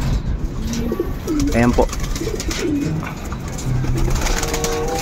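Racing pigeons coo inside a loft, soft rolling calls repeating near the microphone while someone talks over them.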